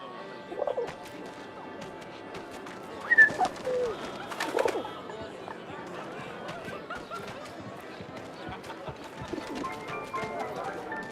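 A pigeon coos in the video game 11-11 Memories Retold, soft and fairly close, in a few short murmuring bursts amid a busy ambient background with faint clattering and chatter.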